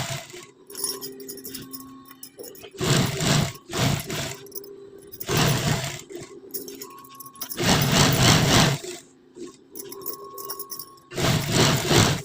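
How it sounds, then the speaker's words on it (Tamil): Sewing machine stitching a princess-cut blouse, with several loud bursts of rapid whirring stitching separated by short pauses and quieter mechanical clicks. "நான் வீடியோ எடுத்தா ரொம்ப ஸ்லோவாக உங்களுக்கு நான் ஸ்டிச் பண்ணி காட்டுறேன்"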